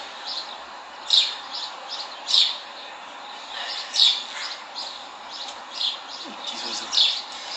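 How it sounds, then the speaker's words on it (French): Small birds chirping in a steady series of short, bright tweets repeating every second or so, moderately near over a faint background hiss, with no voices. "Petits oiseaux."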